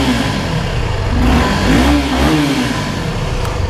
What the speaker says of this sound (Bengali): তো এখন চলেন বাইকটা আমি একটু স্টার্ট দিয়ে আপনাদেরকে দেখাই এটা সাউন্ডটা কেমন।